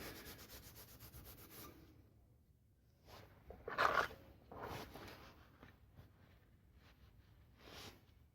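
A worn Scotch-Brite pad scrubs oxide off scrap copper pipe in quiet, uneven rasping strokes, with brief pauses and one louder scraping pass near the middle.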